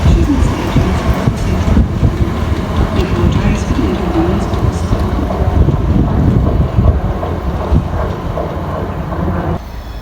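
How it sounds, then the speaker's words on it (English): Double-set ScotRail class 318 electric trains at Motherwell station, a steady broadband rumble and hiss of moving stock with gusty wind buffeting the microphone throughout, loud and close. "ScotRail service to Argyle. 318-253 and"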